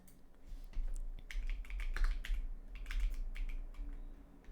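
Rapid computer clicks and key taps come in irregular clusters, close and fairly quiet, with no talking.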